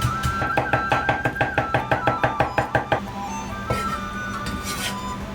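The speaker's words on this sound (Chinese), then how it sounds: "再剁成姜米" A small piece of crushed ginger being minced with a knife, roughly fifteen rapid, regular chopping knocks on a board, followed by a few scraping and tapping sounds.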